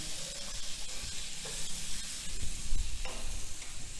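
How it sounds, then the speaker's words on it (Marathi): Boiled elephant foot yam with fresh coconut and crushed roasted peanuts is stirred in a hot pan, a steady close sizzle with soft scraping strokes of the spoon and no talk. "भाजी एकसारखी हलवून घ्यायची"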